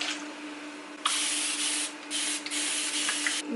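A spray bottle mists water onto body-wave hair bundles in several close, hissing bursts of varying length, separated by brief pauses, with no talk.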